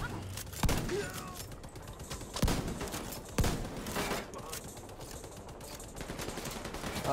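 Tom Clancy's The Division 2 firefight with several distinct sharp gunshots spread across a few seconds, heard at a distance over a rumbling, noisy battle bed.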